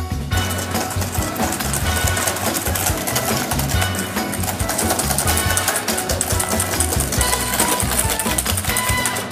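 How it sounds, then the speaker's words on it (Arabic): An electric mixer beats eggs with sugar for a chocolate praline Christmas log cake, giving a loud, continuous whirring drone close by, steady throughout with no talk. "دونك اول حاجه غادي نديرو غادي نخدمو البيض مع السكر مزيان"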